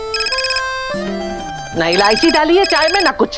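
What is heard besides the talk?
phone ringing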